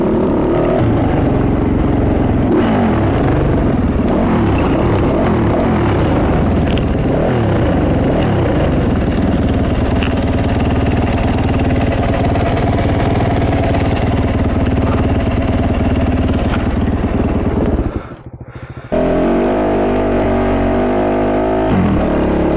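A Fantic 450 Rally motorcycle with a loose exhaust manifold roars loudly close by, its thundering engine holding a rough, continuous drone with shifting revs, cutting out briefly near the end before resuming.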